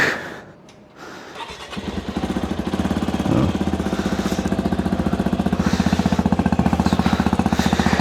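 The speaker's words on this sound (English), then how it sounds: "Let's just cold start the bike." A Hero XPulse 210 motorcycle cranks over and fires up from cold, then settles into a loud, steady, close idle with an even pulsing beat.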